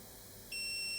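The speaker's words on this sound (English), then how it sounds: "And it will beep again after a few seconds," A SUNLU filament connector lets out an electronic beep: a short high tone sounds midway and then holds steady to the end, clear and close over a faint background hum.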